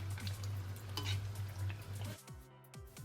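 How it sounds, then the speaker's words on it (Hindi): Potato pakoras deep frying in oil over a low to medium flame, a soft crackling sizzle under a loud steady low hum that cuts out partway, leaving fainter frying alone. "लो टू मीडियम फ्लेम पर हम इसको डीप फ्राई कर लेंगे"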